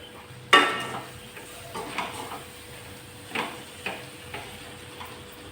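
Grated raw mango frying in oil, a soft sizzle under repeated scrapes and clinks of a spoon stirring against the pan, one sharper knock at the start and quieter strokes following.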